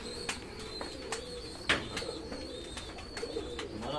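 Pigeons coo softly in repeated low calls, with a few sharper clicks and rustles over a quiet background, no talking.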